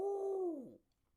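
A voice imitates an owl with a single hoot, a held tone that slides downward at the end and then drops into quiet.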